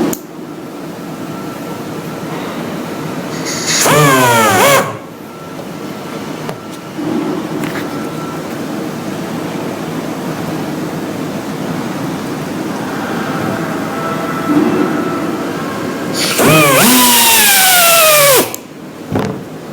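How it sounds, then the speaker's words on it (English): A high-speed router drives spin welds into place, whining up in two loud rising bursts that sweep upward in pitch, each lasting a couple of seconds, over a steady background hum. "All spin welds are installed with high-speed routers."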